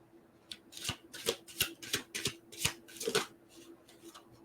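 Tarot cards being drawn and laid down, making about ten crisp, close slaps and flicks in a quick, fairly even rhythm, with a faint steady tone running underneath.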